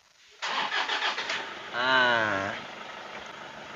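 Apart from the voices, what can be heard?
Toyota Kijang Innova 2KD diesel engine starting and idling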